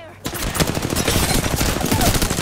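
Rapid bursts of automatic gunfire from a shooter video game, loud and dense, rattling continuously after a brief quiet start.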